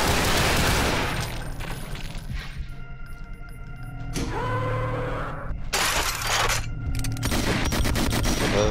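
Loud, repeated shotgun blasts from the first-person shooter Brutal Doom (Hell on Earth, E3M8 Sacrificial Grounds), bursting with shattering impacts and chaotic gunfire, with a few sharp heavy bursts standing out over a dense, noisy game soundscape.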